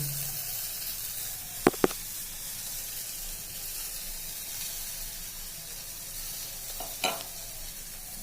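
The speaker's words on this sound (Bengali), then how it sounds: "তেল দিয়েছি, এখন ফাটিয়ে নেব।" Mustard oil sizzles steadily in a pan as spices crackle, with a couple of sharp pops early on and another burst near the end over a constant frying hiss.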